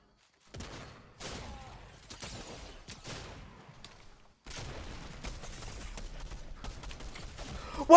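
Gunfire rattles in the video game Fortnite, fairly quiet rapid shots in short clusters broken by brief gaps, then a denser, steadier stretch of firing ending in a sudden louder hit.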